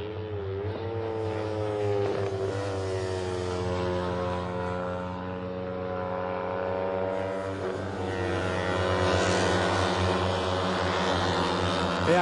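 Kawasaki Ninja 250 race motorcycles in a one-make race at Interlagos, their high-revving engines droning and shifting pitch as they pass, loud and sustained with a second machine rising toward the end.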